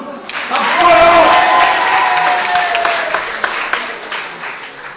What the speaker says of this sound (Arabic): هلا هيك صفقوا صفقوا